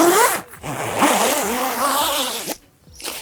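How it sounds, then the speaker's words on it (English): A zipper slider is drawn along the track of a Zempire Aerospeed tent wall, a close, continuous rasping run with a brief pause before a final short pull. "slide the base of the zip in like so, and then start to pull that zip slider"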